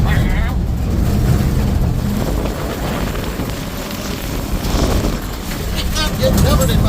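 A 1960s Dodge truck drives through mud, its front tires flinging mud with a steady engine rumble and broadband splatter and wind buffeting close to the microphone, while a person talks over it.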